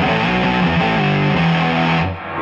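Electric guitar played through an SM fuzz pedal, producing a thick, saturated 60s-style fuzz tone with sustained chords and note changes, loud and alone before cutting off near the end.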